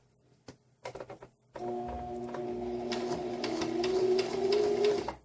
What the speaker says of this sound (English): And now I'm gonna go ahead and back stitch.